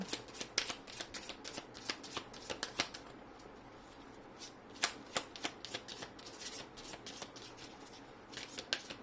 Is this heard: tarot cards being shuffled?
yes